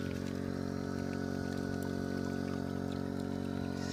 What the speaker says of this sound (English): I just turned the water off on the unit here, so it's just draining here now.